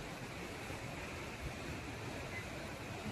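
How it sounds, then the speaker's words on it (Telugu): A waterfall beside a steep rocky trekking trail up to the Atri Muni ashram gives a constant broadband rush. The roar stays even and unbroken, with no voices over it. "పక్కనే వాటర్ ఫాల్స్ ఉంటాయి."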